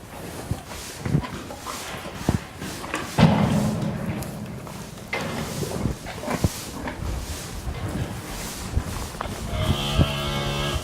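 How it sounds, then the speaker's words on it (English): A cow on heat moos at a farm, with thumps and clatter of livestock movement around it, moderately loud and fairly close, no talk. "There's a cow on heat out there, isn't there, Kamadave?"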